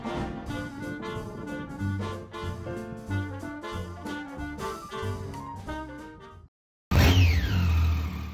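A Suzuki Hayabusa GSX1300R motorcycle ridden on a road near Abashiri: after a stretch of music and a sudden cut, the engine roars loudly for a brief moment with wind rush and a falling whine.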